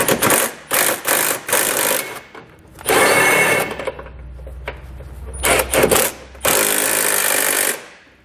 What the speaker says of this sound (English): we're going to use an 11/16 socket to tighten them up